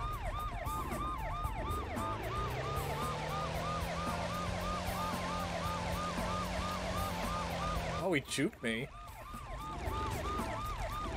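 A police car siren in a GTA-style video game wails continuously through a steady rising-and-falling cycle, loud and close over engine drone, with a brief spoken remark and a sharp burst of clatter near the end.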